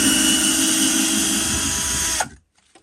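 Parkside 12V cordless screwdriver driving a screw: a loud, steady motor whine holds for about two seconds, then cuts off abruptly into near silence.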